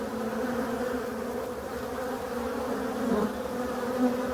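Honeybees pour out of a hive entrance in a big spring flight, a close, steady, loud buzzing drone that holds throughout, with no talk over it.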